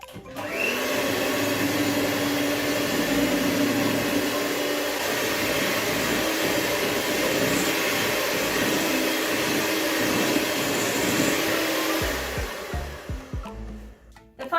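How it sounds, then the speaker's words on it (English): An electric mixer whirs steadily while mixing buttercream icing with vanilla, a constant loud motor drone lasting about twelve seconds before winding down and stopping with a few clunks. "Mix again for about 5 minutes."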